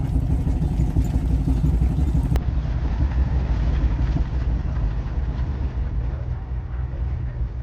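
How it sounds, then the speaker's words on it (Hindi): A passenger train picking up speed on rails in Pennsylvania, producing a steady, loud rumble with rhythmic wheel clatter that continues without a break. "हमारी ट्रेन एक बार फिर पेंसिल्वेनिया में गति पकड़ रही है।"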